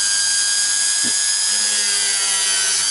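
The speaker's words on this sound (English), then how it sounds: "Notice I'm using the Dremel with 2 hands at all times." A handheld Dremel rotary tool cuts into the body of an Indian-made Sunn Mustang Strat-style electric guitar, giving a steady, close high-pitched whine throughout with a brief low knock partway in.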